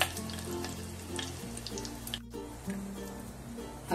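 Cumin seeds and curry leaves sizzling in hot oil, a dense continuous crackle and spatter with small pops, close and steady throughout.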